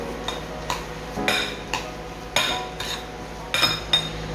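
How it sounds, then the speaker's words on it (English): Processed spices mixed into kimchi paste in a bowl: a utensil scrapes and knocks against the bowl in repeated strokes, with regular clinks about every half second, close and moderately loud, and no voices. "So we'll just mix everything into our paste."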